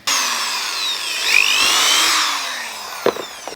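Power drill boring a pilot hole into the edge of a wooden plant stand, a loud sustained whine with a shifting pitch for over three seconds, ending in a couple of short knocks.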